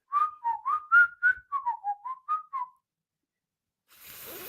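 A person whistles a short tune of about a dozen quick, clear notes, close and alone, followed by silence and then faint background noise.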